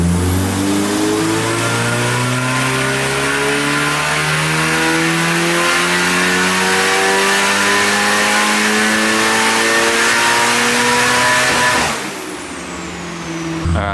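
A built Nissan S15 engine revs hard during a dyno power pull: a loud, steadily climbing roar with rising tones holds for about twelve seconds, then the revs drop off abruptly.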